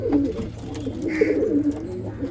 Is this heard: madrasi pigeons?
yes